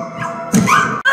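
A dog gives a few short, sharp barks and yips, loud and close, with a brief gap before a final bark.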